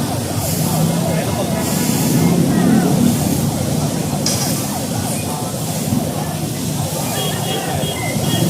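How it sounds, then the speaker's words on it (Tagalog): A fire truck siren wails steadily over busy street noise and engine rumble on a long city road, with voices talking throughout. "atabayan na natin yung pagdating naman ng truck naman ng bumbero para banlawan"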